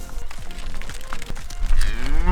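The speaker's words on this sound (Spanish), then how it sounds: "me encuentro con estas bellas vacas" Cows moo on a rocky hillside at Marcahuasi near Lima, several low drawn-out calls overlapping close by, loud against steady wind noise.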